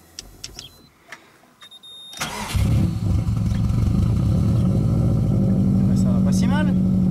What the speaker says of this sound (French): Bon, elle démarre.